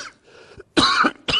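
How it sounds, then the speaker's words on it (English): A man coughs in a studio under hot lights, a short throat-clearing sound followed by two loud, close coughs about half a second apart. "it's just a cough because of the heat and this and that here, because of the lights in the studio"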